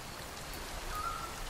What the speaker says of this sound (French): Ah bah, il pleut. Ça va remplir le bassin.